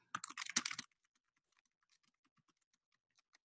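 Quick burst of typing on a computer keyboard, a dense cluster of clicky keystrokes up close, followed by a few sparse, faint taps in near silence.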